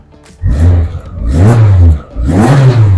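A Peugeot 106 rally car engine revved hard from the copilot's side pedal, three loud close bursts of rising and falling engine note separated by short dips toward idle.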